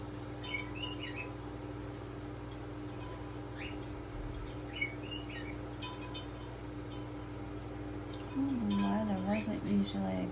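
A pet cockatiel whistles and chirps in short, faint phrases over a steady indoor hum, ending in a louder, warbling run of notes near the close.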